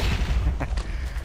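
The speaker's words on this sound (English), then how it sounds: "when you jump you make an explosion behind you" Explosion triggered when jumping in a Minecraft-style Iron Man mod, a short series of deep booming blasts in quick succession, close and loud, with a low rumbling tail.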